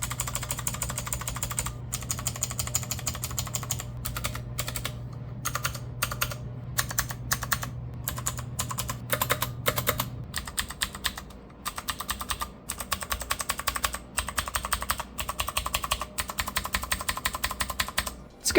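Rapid clacky typing on a modded Redragon K552 mechanical keyboard, steady bursts of keystrokes with brief pauses, close and clear, with a low hum in the first half.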